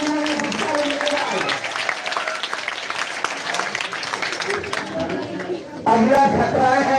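Audience clapping at a coaching centre prize ceremony, scattered applause and crowd chatter under an announcer's voice, swelling into louder clapping near the end.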